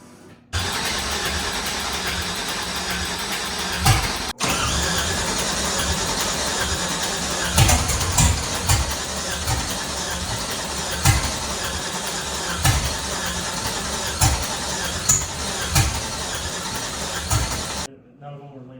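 An LS V8-swapped Nissan D21 Hardbody cranks and fires into a loud, close, rough idle with repeated throttle blips and revs, then cuts off; voices talk intermittently over the engine.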